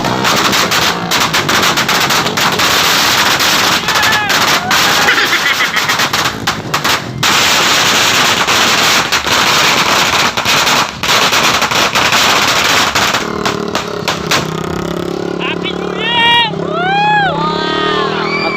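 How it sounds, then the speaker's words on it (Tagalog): A Cinturon ni Judas firecracker belt goes off at a New Year celebration in front of a house, a loud, dense run of rapid crackling bangs for about thirteen seconds, then scattered pops and whistling fireworks with voices nearby. "sinindihan ko na yung Cinturon ni Judas"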